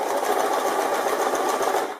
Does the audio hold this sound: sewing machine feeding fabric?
yes